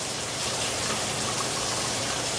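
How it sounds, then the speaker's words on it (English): Hot water being poured into a cooking pot, a steady rushing splash that runs continuously at moderate loudness with no talking. "I'm going to put a little bit of hot water"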